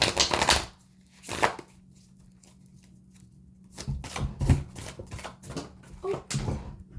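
Tarot cards are shuffled by hand for a card reading: quiet, irregular papery riffles and flicks come in uneven bursts close up over a faint low hum, with no voice.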